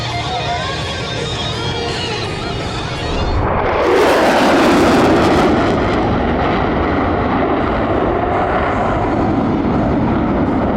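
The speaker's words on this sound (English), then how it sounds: "making the Growler a truly multifaceted tactical jet" An EA-18G Growler tactical jet makes a demonstration pass at the California Capital Airshow: a loud, continuous roar that swells into a harsher, brighter blast partway through, then holds as a broad rumbling thunder.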